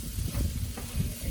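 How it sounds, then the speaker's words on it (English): A hash of sausage, apple, onion and sweet potato stirred in a pan, a brief soft scraping and shuffling of food over a low sizzle, close and without talk. "give everything a good big stir, get it all combined"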